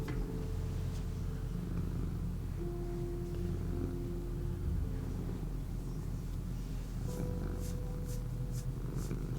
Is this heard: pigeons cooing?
no